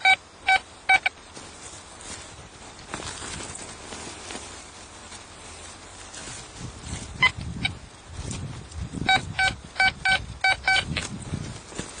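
A precise metal detector sends out short electronic beeps in quick clusters, a few at the start and a longer run near the end, over faint outdoor rustling and scraping.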